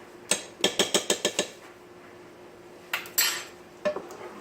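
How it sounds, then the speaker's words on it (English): A metal spoon scrapes and clinks against a pot while chili powder is mixed into tamale pie filling, with a quick run of about seven sharp taps followed by a few scattered scrapes, close up and with no talking. "Mix that in."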